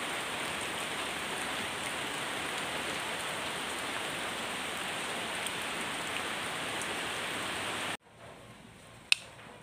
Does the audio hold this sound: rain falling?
yes